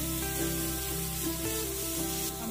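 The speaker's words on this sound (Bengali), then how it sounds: "মাছটাকে খুব ভালোভাবে মানে মচমচে করে ভাজবো, তাই অনেকক্ষণ টাইম নিয়ে মাছটাকে ভাজছি" Rohu fish pieces deep-frying in hot oil until crisp, a steady close sizzle and crackle running continuously with faint hiss, no voices.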